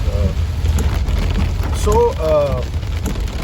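Heavy monsoon rain pours down while a car is driven through flooded Mumbai streets, a dense, steady hiss and drumming that fills the cabin, with a brief voice-like sound rising faintly through it.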